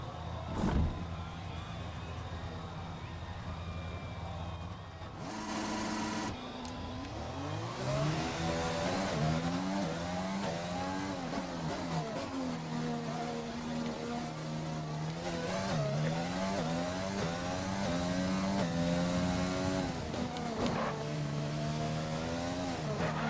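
An F1 car in the F1 video game at the Dutch Grand Prix pulls out of the pits on fresh medium tyres, a loud engine whine climbing through repeated upshifts, each pitch sweep rising steadily.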